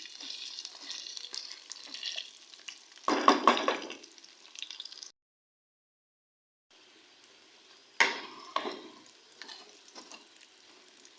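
Chicken karahi stir-fries in a pan, hissing and sizzling with stirring scrapes in two loud bursts separated by a short silence, faint sizzle lingering between.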